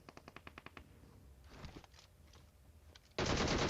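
Rapid gunfire in a shooter video game: a quick string of evenly spaced shots, a few scattered bursts, then a sudden loud, sustained blast of noise that fills the final stretch.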